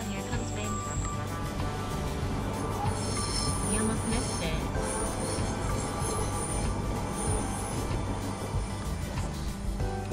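A small train passes continuously with a rumbling roll and high wheel squeal along the rails, loud and close, with a faint bird and a murmur of background voices.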